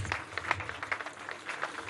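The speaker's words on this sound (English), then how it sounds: "A round of applause to the team" Light, sparse clapping from a small group at a corporate event honoring a project team, faint and slightly distant, individual claps audible in an uneven patter.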